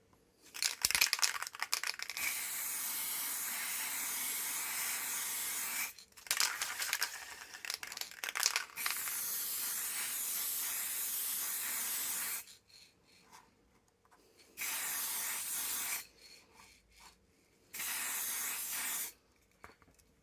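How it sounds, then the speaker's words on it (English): Matte varnish sprayed from an aerosol can onto laser-cut model brickwork, several loud hissing bursts of varying length separated by short pauses, close up with no talking. "So giving that a good coat of the matte varnish"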